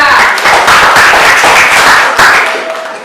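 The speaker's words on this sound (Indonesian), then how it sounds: "kita kasih aplaus untuk kelompok 2" Applause for a student discussion group in a classroom: a dense burst of many hands clapping together for about two and a half seconds, loud and close, then tapering off.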